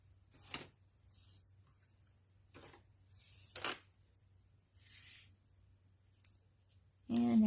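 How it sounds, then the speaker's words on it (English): Snips trimming card stock for card making, several separate crisp cuts and snaps spread across a quiet room, with a voice briefly starting at the end. "And my snips here and trim that down."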